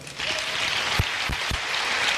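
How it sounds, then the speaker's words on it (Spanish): Congregation applause during a church sermon on spiritual gifts, a brief burst of many hands clapping with a few heavy low thumps, loud and close in a reverberant hall. "Den un aplauso al Señor."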